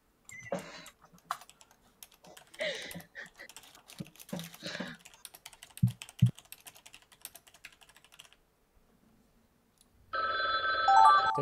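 A telephone-style ringtone bursts in loudly near the end, ringing in a rapid repeating pattern after stretches of keyboard typing, clicks and brief vocal noises during a Gartic Phone drawing game.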